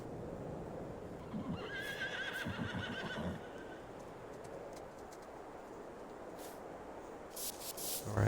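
Horses in Farming Simulator 22 whinny in short bursts and clip-clop as they walk about, over a steady ambient farm background with occasional birdsong.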